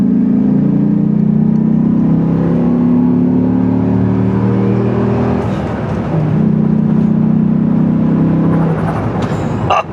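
A manual Dodge Ram SRT-10 Viper pickup's V10, a truck that's smoking badly, revs loud and close in sustained throaty pulls, the pitch dipping once midway before climbing again.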